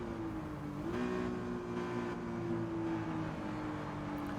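A race car in Gran Turismo 7 drives on a snowy track with very little grip, its engine giving a steady droning whine that rises slightly and holds, fairly quiet and continuous with no talking.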